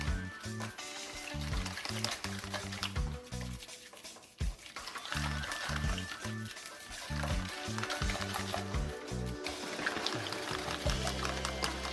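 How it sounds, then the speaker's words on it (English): A whisk stirs muffin batter with added coconut powder in a bowl. Steady, soft scraping and swishing strokes repeat throughout, sitting under prominent rhythmic background music. "So coconut powder. We're gonna whisk."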